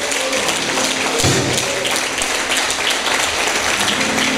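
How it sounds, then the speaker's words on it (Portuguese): Congregation at a Portuguese-language evening church service applauding, close and loud continuous clapping with a low hum underneath and a sharper thump just past the first second. "Dê um aplauso a Ele, querido, nessa noite"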